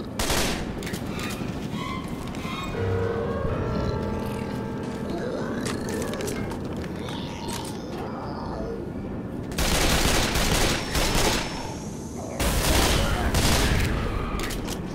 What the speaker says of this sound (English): You are shooting me!